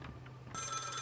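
A telephone rings inside a border-customs video game, the electronic ringing bursting in halfway through and continuing steadily after a quiet start.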